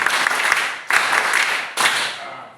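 An audience at a public talk in Arua City, Uganda, breaks into loud, close applause in three quick bursts, each dense with claps before easing off.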